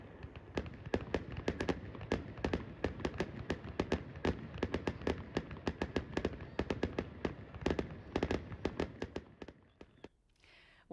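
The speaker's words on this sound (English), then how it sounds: "Fireworks were viewed from the grandstands." Fireworks burst in a rapid, continuous barrage of sharp cracks and booms at a community eclipse festival with grandstands and kids' rides, the dense volley running loud for about ten seconds before stopping abruptly into quiet.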